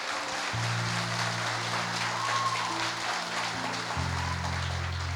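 A church congregation applauding during a sermon, a steady wash of clapping heard at moderate distance, with sustained organ or keyboard tones beneath it.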